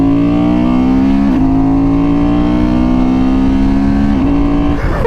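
A Honda Transalp 750 motorcycle engine runs steadily at low, even revs while the bike is backed in, the droning note dipping briefly twice and rising slightly near the end, close and loud throughout with no talk.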